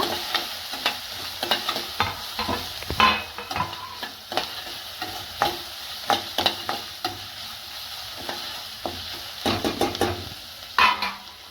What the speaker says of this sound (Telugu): ఉల్లిగడ్డ సన్న కట్ చేసుకుంది ఒకటి ఇలా బ్రౌన్ కలర్ వచ్చి వరకు వేయించుకోవాలి